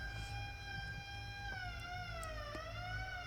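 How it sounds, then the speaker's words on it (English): A wailing siren with steady tonal bands that slowly bend downward in pitch, sounding at a distance over a low rumbling background. "Suddenly, the sound of sirens fill the air and we both freeze in place."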